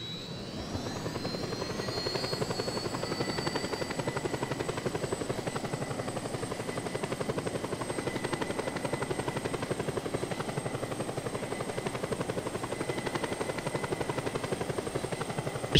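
A helicopter in the video game Just Cause 2 keeps up a loud, steady rotor chop with a whining turbine tone, the same close drone for the whole stretch, with no voices over it.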